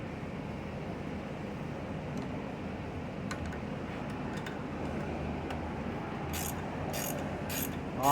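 Ratchet wrench clicking steadily as it backs out 10mm bolts on a prototype carburetor, close and fairly quiet over a low background hum, with a few sharper clicks near the end.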